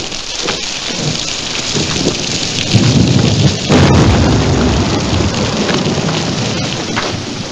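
Heavy rain pours steadily in a thunderstorm, a dense, loud wash throughout, with a low rumble swelling in the middle.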